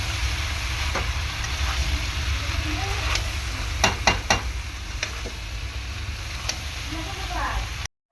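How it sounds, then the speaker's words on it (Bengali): Boiled peas frying with cumin powder in a pan give a continuous sizzle, with a cluster of sharp utensil clinks in the middle and a voice speaking over it. "সেদ্ধ করা, একদম দেখতে পাচ্ছ জল ঝরে গিয়েছে, মটরটা দিয়ে দিলাম।"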